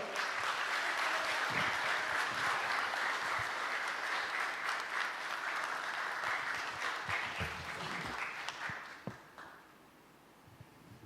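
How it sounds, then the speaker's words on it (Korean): A church congregation at a Sunday worship service in New York applauds to welcome the pastor, with steady, dense clapping for most of the span that thins and fades out near the end. "우리 힘차게 박수로 환영하도록 하겠습니다."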